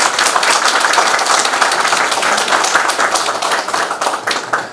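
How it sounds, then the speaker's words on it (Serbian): An audience bursts into warm, sustained applause to welcome guests at a public gathering: dense, steady clapping that fills the room from start to finish without any voices. "Molim vas da pozdravimo svi naše goste velikim aplauzom."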